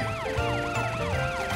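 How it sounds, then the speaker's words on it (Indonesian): A cartoon emergency vehicle siren wails in a rising and falling pattern, loud and continuous, with a low tone repeating underneath. "Tunggu, suara apa itu? Itu sirine lain."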